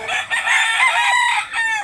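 A gamecock crows loudly and close by at a market in Mantalungon, Barili, Cebu, one long strained call with a brief break, with no other sounds around it.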